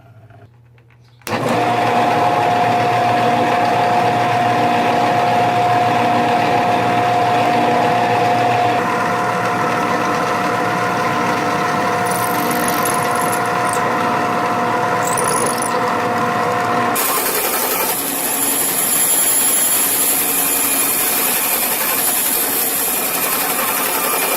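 A Shopsmith machine sanding wood runs loud and constant, with a steady mechanical whine and rumble that starts abruptly after a second of quiet and shifts in tone partway through, then again near the end as the piece is worked.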